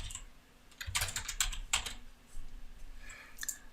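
Keys clatter on a computer keyboard in quick irregular bursts of clicks, fairly close and moderately loud, with short pauses between runs and no talking.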